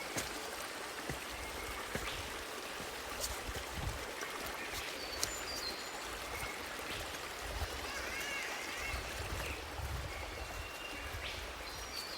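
Water trickles and flows over natural rock at a creek crossing on a Queensland hiking trail, a quiet, steady babble with faint bird calls now and then.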